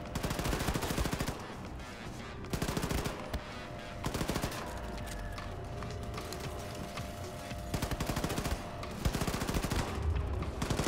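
Rapid bursts of gunfire from a laser gun in the first-person shooter Wolfenstein II, firing in repeated loud volleys with short gaps, dense and close amid ongoing game noise.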